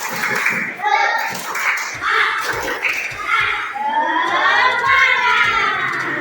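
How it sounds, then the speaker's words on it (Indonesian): Schoolchildren in a classroom clap a rhythmic patterned cheer together, with children's voices chanting and shouting over the claps throughout. "mari kita tepuk tangan dulu."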